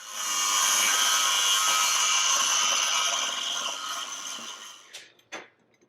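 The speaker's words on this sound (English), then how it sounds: "Gonna cut it right here in the vise." Metal clamped in a vise being cut for a mini bike trike build, a loud steady high-pitched grinding cut that tapers off near the end, followed by a couple of sharp clanks.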